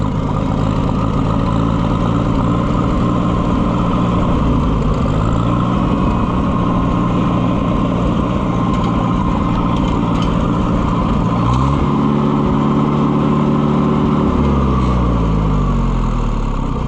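A loader's engine runs rough and fails to hold a steady idle, a loud, close, continuous diesel rumble with wavering pitch that surges and sags, loudest near the end.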